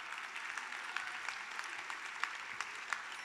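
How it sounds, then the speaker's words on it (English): Steady audience applause at an entrepreneurship awards evening, a dense wash of many hands clapping continuously throughout, moderately loud with a few sharper individual claps standing out. "So, another round of applause to yourself."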